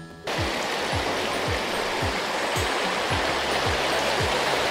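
A river flowing over the remains of an old dam beneath a bridge in Northumberland, a steady close rushing wash of water that starts abruptly and continues loud and even, with faint repeating low thumps underneath.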